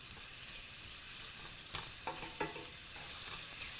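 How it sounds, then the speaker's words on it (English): Onion and garlic stir-frying in a pan, a soft continuous sizzle broken by a few sharp scrapes and clacks of stirring near the end. "now we're gonna put the onion and the garlic. We're gonna stir fry those a little bit"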